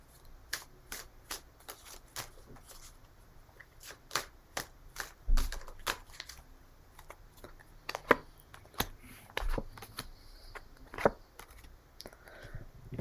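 Tarot cards are shuffled in a run of crisp, dry riffles and snaps, close and fairly quiet, with a few heavier thumps as the deck is tapped and handled.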